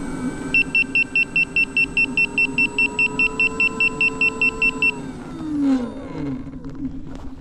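A V13 electric unicycle alarm gives a rapid, even run of about twenty loud beeps over steady road and wind noise, then stops and gives way to the rolling hum of the ride.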